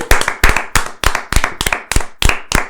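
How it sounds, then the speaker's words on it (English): A few people clap slowly in a small room, about eight sharp, loud, evenly spaced claps, each one distinct and close to the microphone. "Round of applause number 2."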